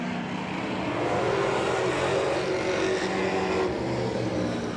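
Race cars at Claremont Motorsports Park roar together in a loud, steady pack of engine noise, sustained and close with no gaps.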